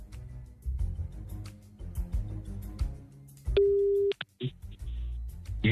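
A telephone line tone sounds during a live phone call into a radio broadcast: a short steady beep near the middle, broken electronic bursts after it, and background chatter and noise around it.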